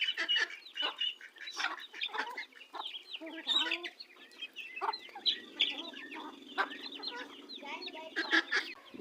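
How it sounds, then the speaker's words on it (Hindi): Several large hens squabbling over food such as noodles, with repeated clucks and sharp squawks in irregular bursts throughout, close by and fairly loud. "देखें आपस में बड़ी मुर्गियाँ भी लड़ रही हैं, हर वक्त लड़ती हैं, खाने पे लड़ती हैं,"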